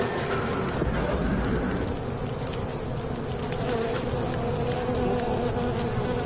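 Swarm of bees buzzing steadily in a video game, a dense, continuous drone filling the whole stretch at moderate loudness, with no talk over it.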